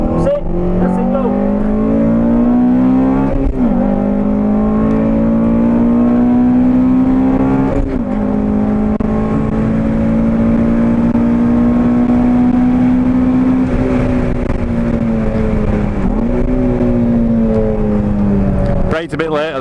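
Race car driven hard around the Croft circuit, engine droning steadily with rising and falling pitch through gear changes, close and loud, with a voice briefly heard over it.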